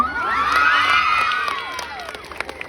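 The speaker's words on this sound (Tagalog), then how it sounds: "Wala po bang hiyawan dyan?" A lively crowd cheers and shouts, with high children's voices whooping and screaming loudly at first, then fading into scattered shouts and a few claps.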